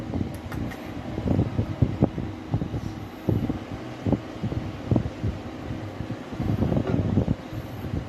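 A low-power 115-watt super-efficient hair dryer runs with a soft, steady airy whir, broken by faint irregular knocks and bumps close to the microphone.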